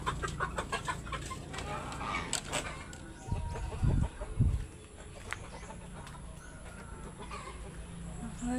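Poultry clucking on a small family farm where a brooding turkey sits among chickens: scattered clucks and soft calls at medium distance, with a couple of louder low thumps midway and a steady outdoor background.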